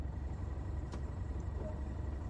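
A diesel locomotive engine in Train Sim World runs at a steady low idle, a constant rumbling drone with a brief faint click partway through and no talk.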